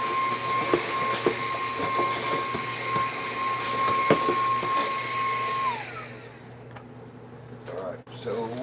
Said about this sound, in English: I'm vacuuming everything out like these little bowls each time I dump them